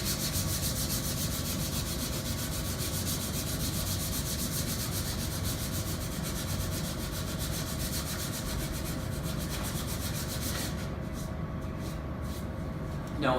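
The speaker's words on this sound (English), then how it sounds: "Now I'm switching over to 120 grit," Hand sanding a block with 120 grit sandpaper in a workshop primer and paint finishing job, a continuous close rasping scrub in rapid back-and-forth strokes, steady and fairly loud.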